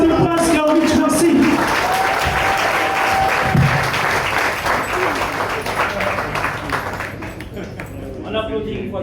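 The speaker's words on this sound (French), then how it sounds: "On applaudit une fois de plus." Café slam poetry audience applauding, dense sustained clapping filling the room, with voices and cheers mixed in over it and a few stray ringing pings.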